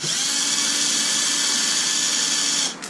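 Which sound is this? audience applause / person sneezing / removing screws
removing screws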